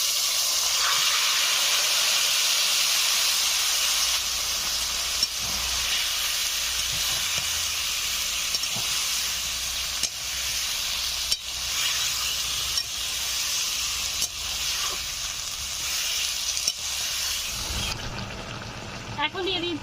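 Vegetables added to a hot pan for a vegetarian dish fry with a loud, steady hiss that continues nearly twenty seconds, with faint clinks and scraping beneath, ending abruptly.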